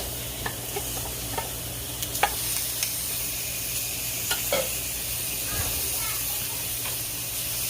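Turkey burgers sizzle steadily on a grill, a loud continuous hiss close by with scattered pops and crackles throughout.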